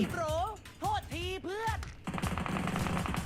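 Rapid gunfire from PUBG Mobile shooter gameplay, a dense burst of shots filling the last second or so of the clip, with excited speech over it beforehand.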